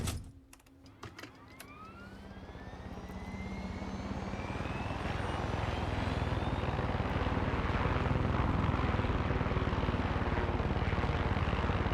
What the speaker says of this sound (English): Let's hop on into the chopper.